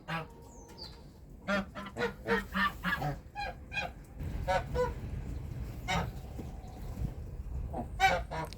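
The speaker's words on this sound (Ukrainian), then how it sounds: "Вон гуси з тебе сміються." A flock of geese honks repeatedly in loud, overlapping bursts, close by, with brief pauses and some background rustle between calls.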